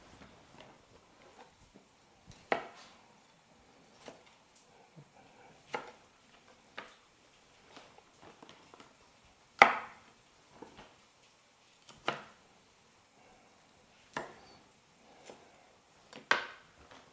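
Knife chopping vegetables into large chunks for Chinese chow mein on a wooden board, a sparse series of sharp, separate cuts at irregular intervals, close and fairly quiet, with no talking.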